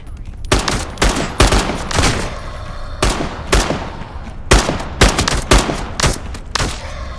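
Gunfire in Into the Radius 2: a series of sharp, loud shots in short bursts and single cracks spread across several seconds, each with a brief echoing tail.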